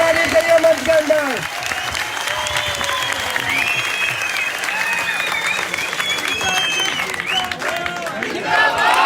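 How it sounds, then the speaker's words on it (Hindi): A large crowd at a strike rally applauds loudly to welcome a speaker, with dense sustained clapping and cheering that runs throughout while a voice talks over it. "जरा जोरदार तालियों के साथ स्वागत करेंगे।"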